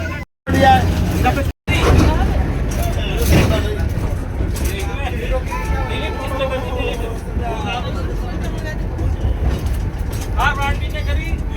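The Darjeeling toy train rumbles and clatters along among a noisy crowd, with steady mechanical rolling under constant chatter and nearby voices.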